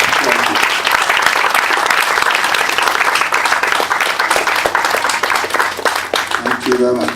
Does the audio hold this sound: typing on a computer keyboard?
no